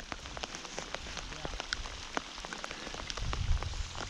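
Steady patter of rain on water with scattered individual drop ticks, fairly quiet and continuous, during a fishing trip in a rainstorm.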